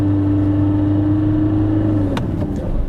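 A faulty car engine that won't rev past 3,000 RPM drones loud and steady from inside the vehicle, holding one engine note before it shifts and dips near the end. No one speaks.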